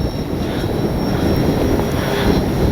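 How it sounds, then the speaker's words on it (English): A FlightLine RC OV-10 Bronco model airplane comes in to land on a windy day, its propeller engine a loud, steady droning roar close by, with wind buffeting underneath and no talk. "If it was a calmer day, I would only need half the runway to land in"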